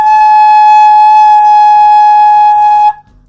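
A flute headjoint played alone with a normal lip setup gives one steady, bright, whistling pitch held for about three seconds before stopping abruptly.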